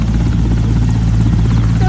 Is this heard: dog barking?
no